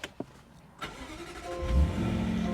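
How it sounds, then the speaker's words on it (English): A 2022 Jaguar F-Pace SVR engine cranks after a couple of soft clicks, then catches and rises into a steady, rumbling idle, close and fairly loud. "So when I go ahead and start the car"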